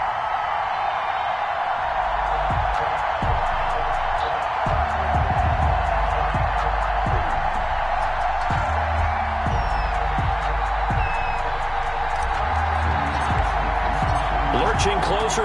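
A stadium crowd in an EA Sports NFL video game roars steadily before a Green Bay Packers versus Baltimore Ravens matchup. The broad, sustained din of cheering carries scattered thumps and whoops all the way through.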